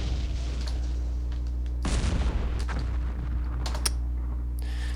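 A tank gun fires at a Panzer V in the Campaign Series West Front wargame, one loud blast standing out over a constant low hum, followed by fainter clicks and small knocks.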